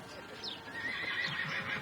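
A horse being backed up at a horsemanship clinic, snorting and whinnying faintly with soft hoof shuffles, under quiet voices nearby.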